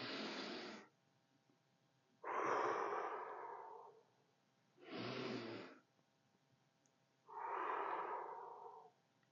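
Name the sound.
breathing in during yoga practice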